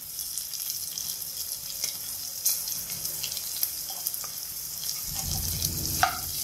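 Chopped onion frying in a pan for dal khichdi, an even hiss of sizzling oil with light stirring clicks, growing denser and louder toward the end.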